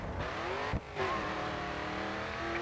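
A race car in the GRID 2 racing game accelerates at full throttle, its engine roaring steadily with a rising harmonic whine and one brief dip before the revs climb again.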